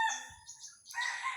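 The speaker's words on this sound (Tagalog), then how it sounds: "Magtitilaukan yan sila." A short, faint rooster crow, a strained, drawn-out call with no talking.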